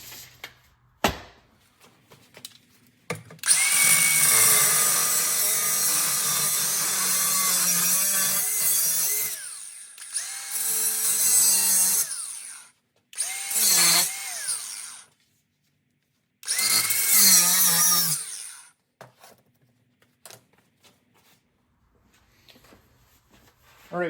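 A power saw cutting through a metal bumper clamped in a vise rings with a loud, sustained high whine in several long bursts, pausing and restarting between cuts.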